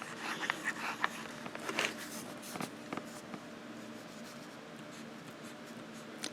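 A fountain pen writes on paper in short downstrokes and cross strokes, a soft scratchy rasp that starts and stops in quick bursts, then settles into a quiet, steady hiss, close up with no talking.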